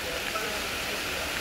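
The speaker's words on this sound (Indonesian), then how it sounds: "Hujan masih lebat lagi ni." Heavy rain pours during a flood in Seremban, Negeri Sembilan, a dense steady hiss filling the brief moment without pause.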